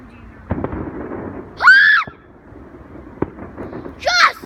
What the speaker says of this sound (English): We want to watch the race course fireworks.